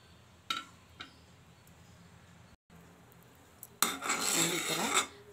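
A spoon scrapes and stirs almond milk (badam milk) in a pot over a low flame: a couple of sharp metallic taps, a quiet pause, then a louder burst of scraping near the end.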